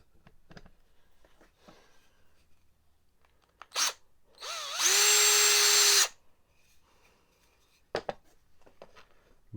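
A power drill drives screws into a ukulele fretboard as position markers: a steady whirring burst of about a second and a half, with brief whines and clicks before and after, close and loud with no talking.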